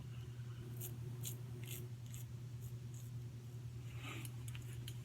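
Electric trimmer or scissors cleaning up the lower beard line along the neck before a shave with a new old stock Ever Ready razor, a steady close buzz with crisp repeated snips.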